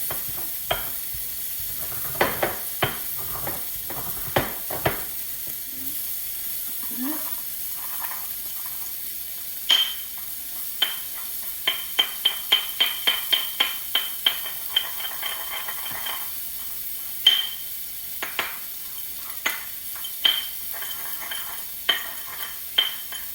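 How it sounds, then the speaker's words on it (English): Garlic is ground for a Mexican salsa, likely in a molcajete, giving a series of sharp, close knocks and gritty strokes that come in irregular bursts, some fast and rhythmic, over a faint background hiss. "we're going to start grinding our garlic first"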